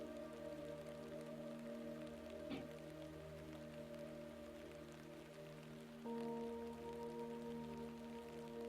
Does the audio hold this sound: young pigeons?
no